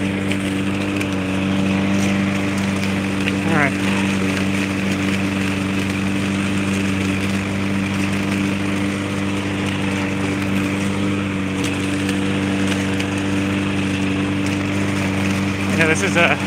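A lawn mower running while mowing a yard near rocks and a garden: a loud, steady engine drone that holds an even pitch throughout, close to the listener.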